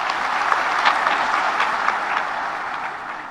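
Sustained audience applause at a public address by Bangladesh's chief adviser, a dense steady wash of many hands clapping without pause and fading slightly toward the end.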